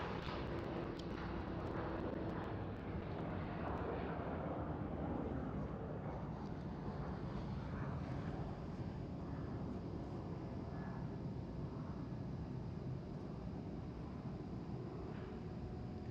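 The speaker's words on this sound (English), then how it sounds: "And KLM 737 700, nice and early action." A KLM Boeing 737-700 airliner at Amsterdam Schiphol airport gives a steady, broad jet-engine roar that holds at an even level throughout, with no voices over it.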